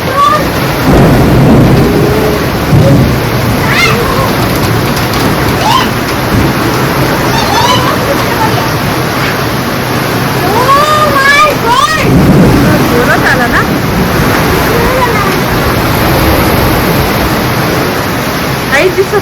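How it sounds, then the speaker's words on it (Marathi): Heavy rain in Nashik pours steadily in a dense, loud wash, with deep thunder rumbling underneath and faint voices and bird-like chirps now and then. "दोन इंची पाऊस आला"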